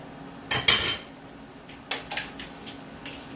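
A small metal spoon clinks and scrapes against a container while scooping spinach and artichoke hummus, a few sharp light taps and scrapes spaced out over a quiet background.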